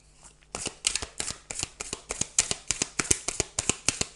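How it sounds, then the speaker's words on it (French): Cards from an oracle deck riffle and slap in a quick, close run of crisp rhythmic clicks and flicks, steady and fairly quiet, with no talk. "je vais tirer une dernière carte"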